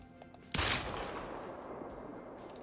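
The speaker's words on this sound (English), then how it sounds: "I haven't shot the Glock yet." A single sharp pistol shot from a Glock in theHunter rings out loud and close, followed by a long fading echo and no talk.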